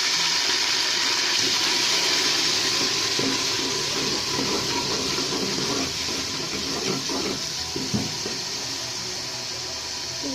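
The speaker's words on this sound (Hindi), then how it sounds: "अब इनमें हम थोड़ा सा पानी ऐड करेंगे।" Water pours steadily into a pot of fried onions for a green chana pulao, a continuous close gushing and splashing that holds for about ten seconds with no talk.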